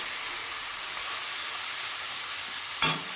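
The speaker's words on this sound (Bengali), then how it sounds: "দিয়ে আমি মশলাটাকে একটু ভালো করে কষিয়ে নেব।" Turmeric-laced spice paste frying in a pan gives a steady, even sizzle, with a short sharp clatter of stirring near the end; no one speaks.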